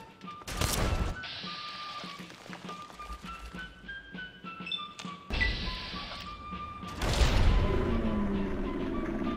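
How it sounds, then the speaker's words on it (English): Grenade blasts in Fallout 3 combat: two loud, booming explosions, one early and one near the end, each with a sharp crack and rumbling tail, over background game noise and musical tones. "Let's switch to grenades here."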